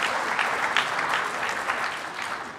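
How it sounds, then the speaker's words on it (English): A lecture-hall audience breaks into a round of applause after a concise question at a political talk, with dense, steady clapping running continuously at even loudness throughout. "round of applause"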